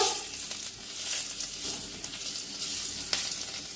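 Crushed garlic cloves frying with nigella seeds in hot oil, a steady close sizzle with a few brief spikes, no voices, for a Bengali puti fish curry.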